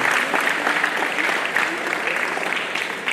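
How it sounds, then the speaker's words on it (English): Audience applause at an MBBS induction ceremony, a steady dense clapping from a large crowd that holds evenly throughout without a break. "A round of applause for us."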